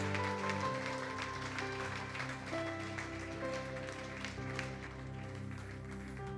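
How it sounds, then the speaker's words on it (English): A church congregation claps steadily throughout, a dense wash of applause layered over sustained organ-like music. "Give God a big applause."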